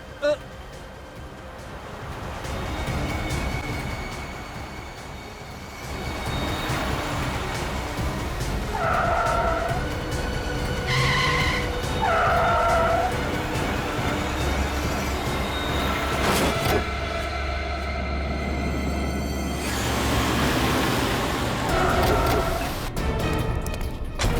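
Thugs drive a car wildly, with a sustained rumbling engine and road noise and several sharp, high tyre squeals in short bursts, while people talk over the commotion.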